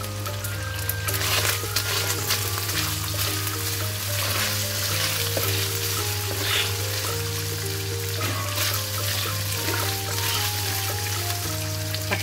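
Pork frying in a pan for ginisang alamang, a continuous bright sizzle full of small crackles and pops, steady from start to end under clinking and background tones, with no talk.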